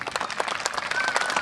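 Audience at a neighborhood cultural program applauding, a brief burst of dense clapping from a crowd at moderate distance, steady throughout.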